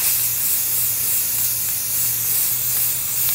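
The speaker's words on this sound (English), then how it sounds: "this is the primer I use, Rust-Oleum 2x flat white primer" Rust-Oleum 2x flat white primer hisses continuously from an aerosol spray can onto a Jeep grille, one close, steady spray held for the whole span with no pauses.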